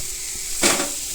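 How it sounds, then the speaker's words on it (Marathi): Onions added to a pan for a dhaba-style egg masala give a sudden sizzling burst halfway through, which then fades back into a faint background hiss. "कांदा चांगला लाल जर होईपर्यंत परतून घ्यायचा"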